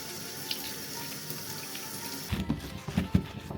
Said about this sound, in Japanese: すべて皮を剥いたら軽く洗い流します。